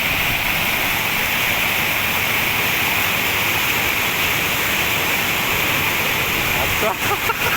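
Steady roar of water spilling over a check dam on the Amaravathi river, Tamil Nadu, heard up close, loud and unbroken, with a short disturbance near the end.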